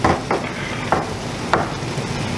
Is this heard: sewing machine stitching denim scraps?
no